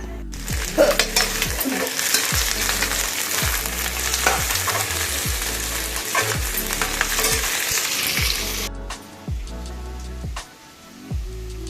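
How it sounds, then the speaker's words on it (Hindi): Soybean chunks fry in a pan in a home kitchen, a steady loud sizzle with stirring scrapes that repeat in a regular rhythm, then the sizzle fades near the end and only a few softer stirs remain. "इसमें सोयाबीन फ्राई करके बनाऊँगी"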